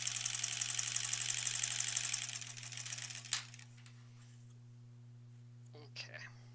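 A sewing machine stitches quilt pieces together, a fast close rapid whirring run that stops after about two seconds, leaving a low steady hum with a few small clicks and a faint voice.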